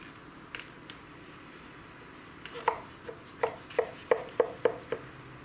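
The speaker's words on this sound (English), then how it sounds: "Just going to be using a knife, and what we want to do is we want to cut this at angles" A knife slices through layered phyllo dough for caramel baklava, giving a run of crisp, crackly cuts that quicken into a close, rhythmic series of about eight sharp crunches, heard alone.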